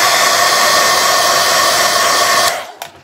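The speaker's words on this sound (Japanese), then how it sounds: "ドライヤーで、" Hair dryer blowing hot air to dry glue on the fuel tank of an Aoshima CB400FOUR plastic model kit: a steady, loud whirring roar for about two and a half seconds, then switched off and quickly fading.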